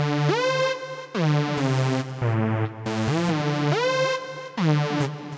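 FL Studio synth notes with portamento, bright buzzy tones gliding smoothly up and down in pitch, repeating every second or so in a short phrase with no voices.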